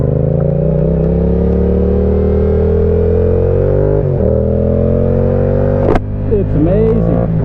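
A Yamaha R7 motorcycle ridden out on an open road, its engine droning loud and close, pitch climbing steadily as it accelerates through a gear, with a short clatter and rushing wind bursts near the end.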